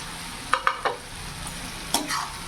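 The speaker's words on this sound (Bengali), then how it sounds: "এবার ভেজে রাখা আলু আর পটলগুলো আমি দিয়ে দেবো।" Fried potatoes and pointed gourd are added to sizzling masala, producing a close, steady frying hiss with a few distinct stirring scrapes and clacks.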